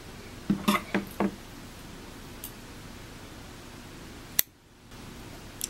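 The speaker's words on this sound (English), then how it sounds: "then we're going to cut our yarn" Scissors snip through crochet yarn in a few quick, close cuts early on. A faint rustle follows and then a sharp click, over quiet room noise.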